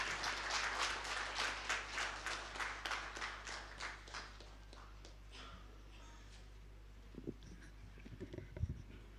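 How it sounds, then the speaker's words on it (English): An audience at a government rice summit applauds to welcome a minister, a faint, distant burst of clapping that thins out and fades after several seconds. "Please welcome him with your energetic claps, please."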